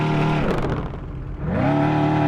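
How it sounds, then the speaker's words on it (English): A 2023 Dodge SRT Challenger Demon in Roblox Drive World revs hard, its engine note dipping and then climbing again in a loud, continuous roar with no one talking. "Rev your engines."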